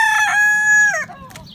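A rooster crows loud and close in one long call, followed by brief clucking from chickens in a coop.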